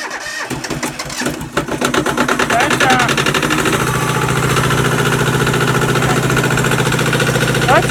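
A Yanmar tractor diesel engine cold starts with a rough cranking clatter, then settles into a steady loud idle, with voices talking over it.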